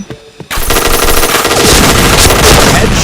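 Rapid automatic gunfire in a shooter video game, loud and continuous bursts erupting after a brief quiet moment and filling the rest of the clip.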